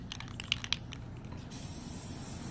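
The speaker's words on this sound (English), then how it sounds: "Take your maroon spray paint" Rattling clicks of a shaken maroon spray paint can give way to a steady, bright hiss of aerosol spraying at close range over a low background rumble.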